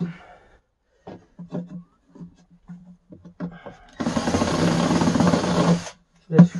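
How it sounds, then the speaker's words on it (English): Screws are taken out of a Tannoy Monitor Gold loudspeaker cabinet: a steady, loud whirring burst of about two seconds follows scattered short knocks and someone talking. "So I'm going to remove all of these screws from all around."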